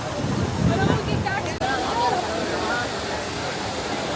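Rushing water at the Trevi Fountain in Rome spills and splashes steadily, a broad continuous wash of sound with a busy daytime crowd murmuring faintly underneath.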